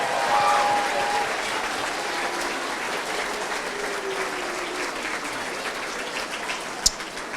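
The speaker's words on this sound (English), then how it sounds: "How about we give every one of the kids that participated a nice round of applause?" An audience at a school mock election assembly claps for the participating kids, a steady wash of many hands in a large room, with one sharp knock near the end.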